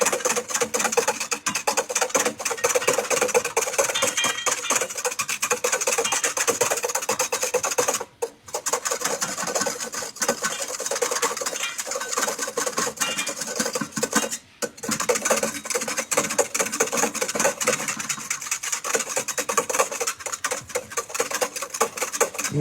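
A whisk beats lemon curd in a bowl with continuous rapid scraping and tapping, a steady gritty rattle that runs nearly unbroken, pausing briefly twice, heard close and alone.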